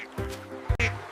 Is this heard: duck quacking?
yes